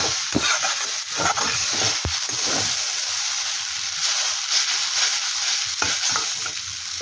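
Boiled chow mein noodles tossed and stirred in a hot wok, a loud close hissing sizzle with scraping stir strokes and occasional knocks against the pan, no voices.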